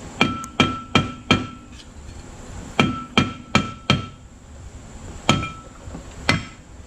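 Hammer blows knocking a seized brake rotor off a Chrysler 200 hub, about ten sharp metallic strikes in uneven bursts of two to four, loud and close with ringing overtones and no talk.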